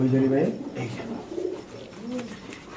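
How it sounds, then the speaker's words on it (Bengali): Fancy pigeons, including Teddy birds, coo at a pigeon market: deep, throaty rolling coos start strongly and then repeat more softly, close by, with faint murmured voices in the background. "এখানে 12 পিস কবুতর আছে, সব টেডি"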